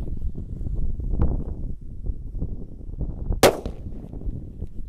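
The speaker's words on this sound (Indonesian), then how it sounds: "Lanjut, mercon tongkat kera kaget guys, kita nyalakan di lubang tanah." A stick firecracker set off inside a hole in the ground, one sharp loud bang that rises out of steady wind noise.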